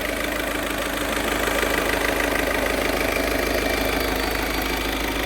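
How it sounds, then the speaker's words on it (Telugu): A 2015 Volkswagen Vento Highline diesel engine idles close up, a steady, even clatter that holds constant from start to finish with no voices. "ఇంజిన్ చూడండి సార్, హెవీ ఇంజిను."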